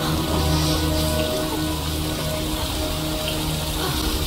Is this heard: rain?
yes